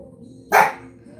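A single sharp dog bark, close and loud, standing out against a quiet low background hum.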